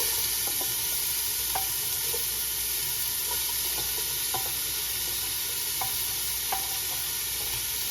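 Diced onion sizzles in olive oil in a pan preheated on medium heat, a steady close frying hiss with occasional soft scrapes and taps of stirring, and no talking.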